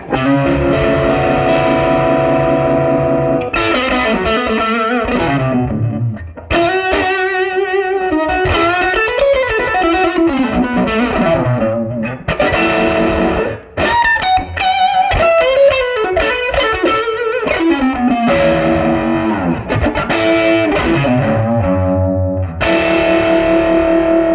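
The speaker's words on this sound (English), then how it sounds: "I'm really convinced by the vibrato sound for sure." Distorted electric guitar through a Crazy Tube Circuits Killer V or vintage Magnatone 480 amp, sustained chords and notes with a wavering, pulsing vibrato, loud and continuous with no talking.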